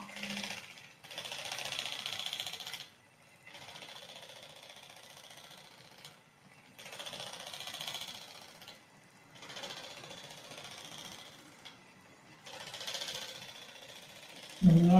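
A facial massage and cleansing device runs in bursts, a thin mechanical whirring that starts and stops every couple of seconds, close and moderately quiet, with a brief clunk at the very end.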